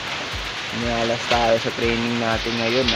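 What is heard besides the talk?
heavy rain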